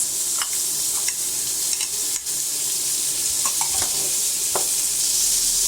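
Tomatoes sauté in a pan with pork for a cabbage dish, giving a continuous close hiss with scattered spoon clicks and scrapes. There is no talking.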